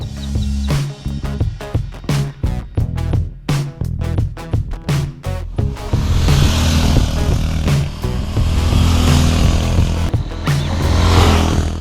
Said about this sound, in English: let's go on a ride of the Bajaj Avenger.